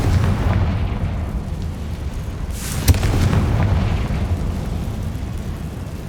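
A Confringo fire spell from the Hogwarts Legacy video game blasts once near the middle with a sharp, loud burst that rolls into a broad explosive whoosh, set over a steady low musical rumble.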